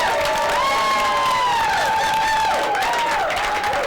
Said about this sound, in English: let's have a round, warm welcome applause for Mr. Frank Fieri